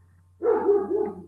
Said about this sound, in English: That's my dog. Can you hear my dog?